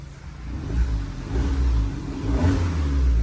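A car engine revs hard through a custom valvetronic exhaust with the cutout open, a raw, rumbling note, the throaty roar swelling and falling twice over about three seconds, close by.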